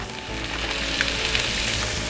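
Cauliflower hits hot garlic butter in a pot and sizzles loudly and continuously, a bright crackling hiss that stays close and steady throughout.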